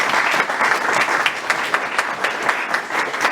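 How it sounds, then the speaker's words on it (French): A church congregation applauds during a French sermon, a dense, loud burst of clapping that holds steady for the whole moment. "Acclamons pour la gloire de Dieu."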